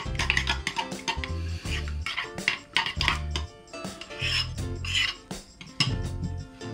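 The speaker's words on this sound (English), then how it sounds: "A little stir." A spoon scrapes and clinks against a bowl while homemade falafel sauce is stirred, close up, with repeated short stirring strokes and no speech.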